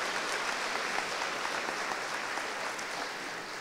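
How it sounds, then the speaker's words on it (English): An audience at an awards event gives a jazz band a round of applause, a steady, fairly distant wash of many hands clapping that holds evenly for several seconds. "Let's give them a round of applause."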